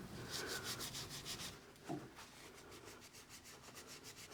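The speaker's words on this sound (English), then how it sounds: "all I'm using to wipe that grease off is these rags" Grease is wiped off a Polaris Ranger part with shop rags, giving a faint, continuous close-up rubbing and scrubbing of cloth in quick repeated strokes, with no talking.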